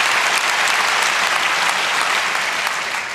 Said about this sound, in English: I appreciate your pandering applause.